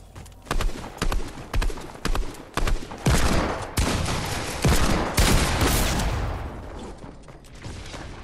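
Shotgun blasts ring out in a Fortnite match, a run of loud, sharp reports spaced about half a second apart, then heavier overlapping bursts of gunfire, close and dominant.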